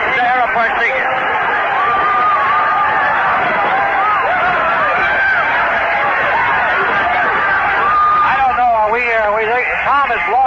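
A large crowd of Notre Dame fans mills around at the Sugar Bowl national championship trophy presentation, producing a constant loud hubbub of voices, shouts and cheering, with no break in the noise.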